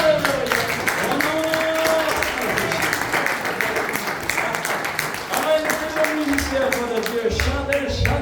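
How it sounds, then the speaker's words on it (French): A church congregation claps through a morning worship service, the applause blending under raised voices and sung, musical tones. "J'aimerais qu'on puisse donner une bonne main d'applaudissement au Seigneur ce matin"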